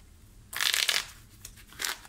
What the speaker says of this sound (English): I also like to do a good amount of riffle shuffling